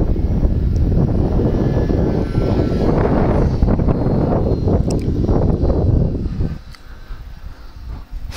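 An F5J model glider passes low overhead at a competition in Slovakia with its electric propeller motor droning loud and close, then fading off toward the end.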